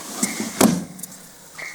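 Storage drawers on Teflon runners in an FJ Cruiser overlanding build slide with a brief smooth rumble, a sharp knock as they stop, then a quieter thud, close and alone.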